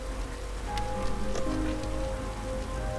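Rain patters softly on surfaces at a campsite near a fire, a faint, even stream of drops with a low steady hum beneath and no one speaking.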